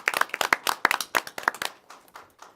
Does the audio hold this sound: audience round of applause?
yes